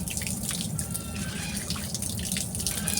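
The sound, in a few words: washing a fresh fish head clean in water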